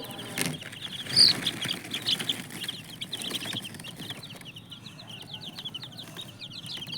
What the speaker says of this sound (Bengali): আমার মুরগিগুলোকে আদা দেওয়ার জন্য চলে আসলাম ছাদে